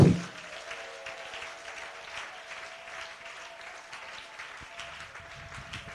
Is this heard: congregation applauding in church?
yes